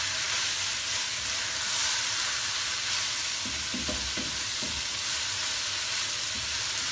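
Vegetables stir-fry for a vegetable chicken chowmein, a loud continuous sizzle and hiss in a hot pan broken by a few soft scraping stirs near the middle, with no voices.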